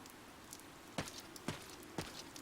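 Steady rain falls in the video game Fire Emblem: Three Houses, a constant soft hiss broken by a few louder drop-like ticks about every half second, heard alone without voices.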